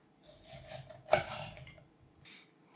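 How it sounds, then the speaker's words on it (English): A knife works through a lemon on a kitchen board, a burst of cutting and scraping in the middle with soft clinks before and after, close and fairly quiet. "Now slice your lemon"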